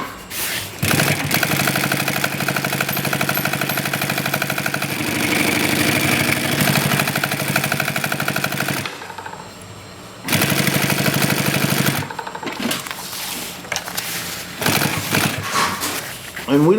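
An AtlasUSA AT201618 single needle walking foot sewing machine runs in long, loud, steady stretches, stopping once for about a second and then again near the end before starting back up.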